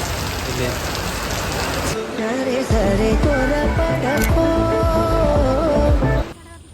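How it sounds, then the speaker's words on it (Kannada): Heavy rain pours in a loud, steady roar while a person talks over it for several seconds before the sound cuts off. "ಭಾರಿ ಜೋರಾಗಿ ಮಳೆ ಬರ್ತಾ ಉಂಟು"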